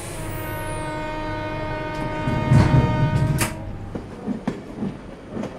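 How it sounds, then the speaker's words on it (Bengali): A train in a detective audio drama lurches into motion at a Kolkata station, with a long horn blast opening the sound, followed by heavy clanking and jolting of the carriages and scattered knocks. "পেপার হাতে নিতে ট্রেনটা দুলে উঠল।"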